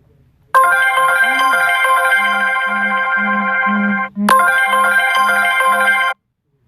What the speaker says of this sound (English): That was a phone call.